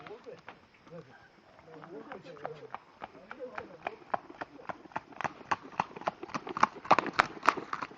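Horse hooves clip-clop on a hard surface in a steady walking rhythm, the hollow knocks growing louder and closer toward the end, with people chatting in the background.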